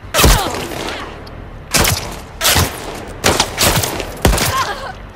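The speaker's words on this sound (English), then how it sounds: "I didn't know I was getting shot in the back the whole time." Gunfire in The Last of Us Part II, five or six sharp, loud shots spaced irregularly over a few seconds, each with a booming low thump and a ringing tail, no talk over them.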